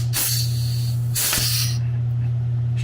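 Aerosol sealer spraying on a 1985 Chevy C10 truck frame, heard as two short hissing bursts over a steady low hum, the second cutting off abruptly. The sealer is running low.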